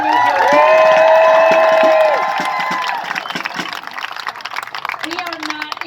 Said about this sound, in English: Look at this crowd in Sussex County, New Jersey.